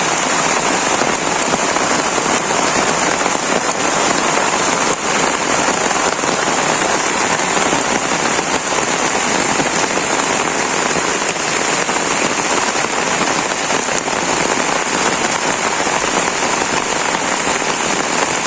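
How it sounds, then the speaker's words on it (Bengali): Heavy rain pours down steadily, a dense, continuous roar of drops hitting surfaces that stays loud and unbroken throughout. "হায় রে হায় বৃষ্টি কারে কয়"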